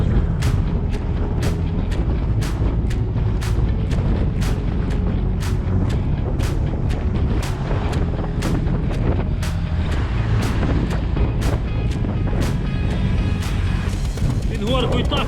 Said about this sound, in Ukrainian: ми весь час боремося з таким вітром в лице